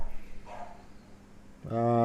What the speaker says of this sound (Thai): หมาเห่านิดหนึ่งนะครับ